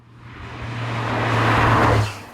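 A Porsche 911 Turbo S T-Hybrid engine hums and swells as it accelerates, a steady low drone from its dual exhaust building in loudness before easing off.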